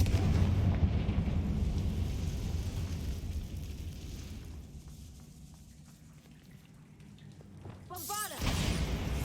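A Confringo fire spell blasting in Hogwarts Legacy: a heavy, booming burst rumbles loudly, slowly fades over several seconds, then a fresh fiery whoosh flares up near the end.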